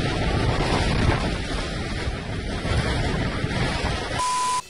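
Wind roars in The Isle, a dinosaur survival game: a loud, continuous gusting rush like surf that stays steady throughout and cuts off abruptly at the end.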